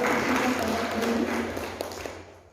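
An audience at a youth peace program event applauds a welcomed guest, a soft, distant wash of clapping that fades toward the end, with a faint voice underneath.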